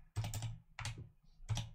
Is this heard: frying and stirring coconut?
no